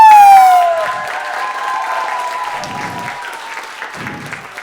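Crowd applause for the dancing girls at a dance studio's Christmas concert, starting just as a sung note fades and continuing as steady, moderately loud clapping with no one speaking.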